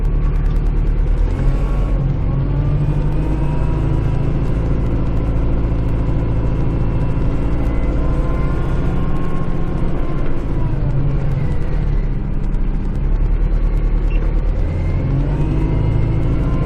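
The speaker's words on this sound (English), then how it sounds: "Put the tractor in here, it'll be nice and warm just in case I need it tonight." A Kubota tractor engine runs loud and steady up close as it pulls into a garage, a continuous low rumbling drone with slight rises in revs.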